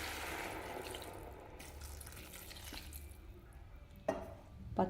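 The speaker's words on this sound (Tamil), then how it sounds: "இப்போ தண்ணி ஊற்றிக்கலாங்க." Water is poured into a pan of sautéed payathangai (long bean) with coriander powder as a vegetable kootu cooks. A steady, soft splashing flow runs throughout, with a couple of sharper clinks near the end.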